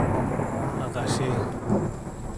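Thunder rolls across a dark, cloud-covered sky on a foggy day with lightning flashing: a low, deep rumble swelling and fading over light rain hiss, with a voice faintly present.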